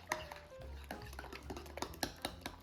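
A spoon stirs egg and grated cheddar into a thick sauce in a bowl, repeated quick clinks and scrapes against the dish in an irregular rhythm, close and clear with no voices.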